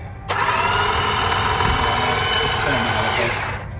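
A 1965 Plymouth Barracuda engine being turned over by its starter via push button, a steady loud mechanical whirring drone lasting about three seconds that stops near the end, with no catch.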